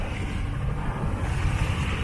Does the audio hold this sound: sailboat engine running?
yes